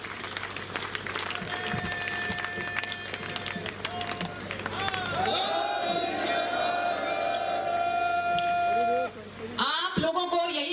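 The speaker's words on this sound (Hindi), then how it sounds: "सभी भाई बहन खड़े होकर जोरदार तालियों के साथ हमारे आदरणीय मुख्यमंत्री जी का स्वागत करेंगे।" A crowd at a BJP nomination rally in Ratia rises to applaud the chief minister, with a long swell of loud clapping and cheering and a voice speaking over a public address system throughout.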